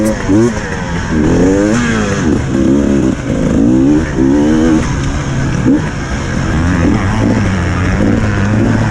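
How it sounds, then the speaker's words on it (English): A two-stroke dirt bike engine rips and revs hard during a main motocross race at Hawkstone Park, loud and close with repeated rising and falling revs, and a voice talks over it. "And that two-stroke rip."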